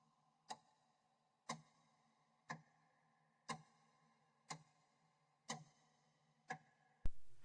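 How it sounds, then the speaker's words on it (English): Ticking of a clock, one sharp tick each second, seven in steady rhythm, quiet and close, ending in a sudden louder noise. "I'm sure you can hear the ticking of the seconds going by"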